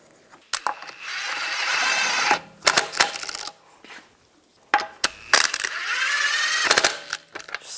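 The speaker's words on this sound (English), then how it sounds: "I'm just going to hold the wheel on while I put the lug studs in." Lug nuts are spun by hand onto the wheel studs of a 2014–2022 Jeep Cherokee. Two long metallic whirring runs of ratcheting and threading stand out, separated by sharp clinks and handling noises.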